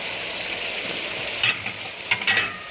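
Okra dropped into a pan of sizzling poppy seed gravy, a steady low sizzle with a few sharp crackling bursts near the end, close and moderately loud, no talking.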